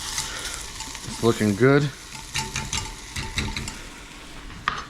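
A spoon stirs Cuban chicken noodle soup in a pot with soft scraping and light clinks, under a brief spoken remark and a faint background sizzle.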